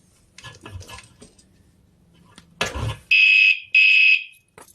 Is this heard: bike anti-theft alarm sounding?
yes